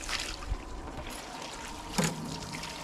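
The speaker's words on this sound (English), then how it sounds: "Just washing the gut cavity out." Water trickles and splashes faintly while a kingfish's gut cavity is rinsed out on a boat, a soft steady dribble with a couple of small knocks.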